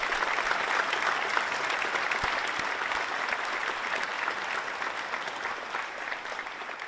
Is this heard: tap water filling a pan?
no